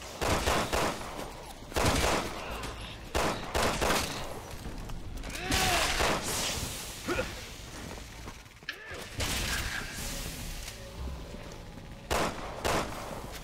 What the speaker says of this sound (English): Bit of recoil on this handgun